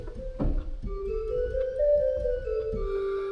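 A church pipe organ plays on a gedeckt stop of square wooden pipes, giving soft, hollow flute-like tones that hold and step between pitches over low knocking action noise.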